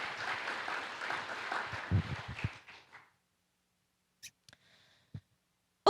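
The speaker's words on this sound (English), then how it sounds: "another round of applause." Applause at a PLDI 2022 conference business meeting, a moderate burst of hand clapping from the audience that fades out after about three seconds, followed by near silence with a few scattered faint knocks.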